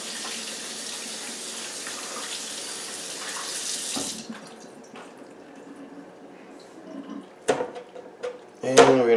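A kitchen tap runs steadily for about four seconds while a deer backstrap is rinsed under it, then cuts off, leaving quieter handling clatter and a few sharp knocks near the end.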